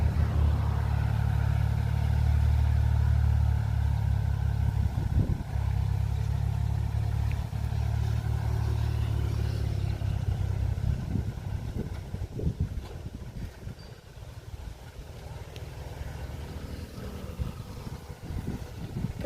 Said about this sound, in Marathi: तर आपला ट्रॅक्टर काम करतो दणदणीत